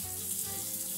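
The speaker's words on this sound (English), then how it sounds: "I'm gonna pour some more water in there and watch what happens." Water poured into a hot stainless steel pan sends up a steady, close hissing sizzle that holds for the full second, with no voices.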